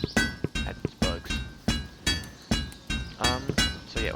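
A metal part is hammered in the A Township Tale game, eight or nine sharp clinking strikes spaced at an even rhythm, each with a bright ringing tail, close and clear.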